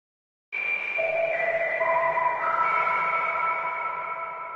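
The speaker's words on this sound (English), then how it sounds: "It's sometimes called an air bell or an air chime." Sega Dreamcast startup chime played on an air-chime style synth: bright sine-like notes enter one after another and layer into a sustained, ringing chord that slowly fades, heard alone with no talk.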